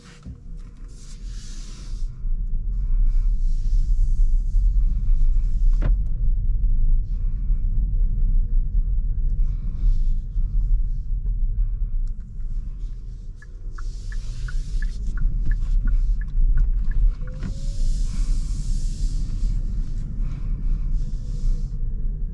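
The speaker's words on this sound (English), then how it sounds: "let's go ahead and take this EV6 on a test drive" A 2022 Kia EV6 electric car on a test drive, a steady low road rumble and soft cabin hum that swells and eases as it rolls along, with no talking.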